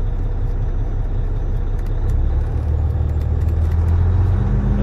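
The diesel engine of an International LT or Freightliner Cascadia truck revs during a parked regeneration, a loud, steady low rumble that grows with a rising hum near the end, heard close up with faint clicks.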